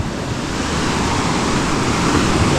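Sea waves roll and wash steadily along a shore, a broad continuous roar with wind noise, loud and close throughout with no voices.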